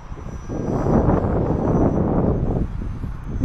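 An Eclipson Inferno RC jet on its maiden flight roars past at about half throttle, a broad steady whoosh of the electric ducted fan, swelling loud then easing, with some wind buffeting the microphone.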